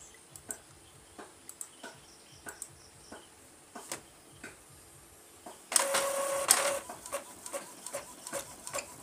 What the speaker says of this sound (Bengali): দেখুন এটাকে আমি আরও একটা প্রিন্ট দিচ্ছি।